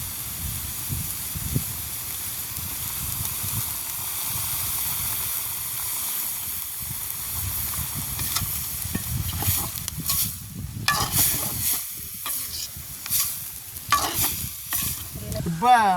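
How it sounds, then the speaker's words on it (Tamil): Food sizzles steadily in a pot while a spoon stirs and scrapes, with louder clattering bursts of stirring toward the end. "நாங்கள் உப்பும் சேர்த்து அப்படியே கிண்டி போட்டு மூடி விடுவோம்"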